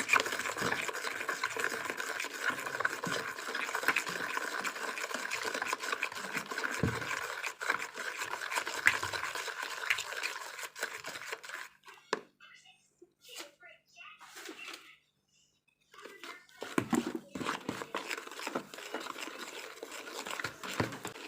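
Detergent powder being mixed by hand as sulfonic acid is gradually added, a continuous gritty scraping and stirring with irregular rustles, stopping briefly before resuming, with a voice talking over it.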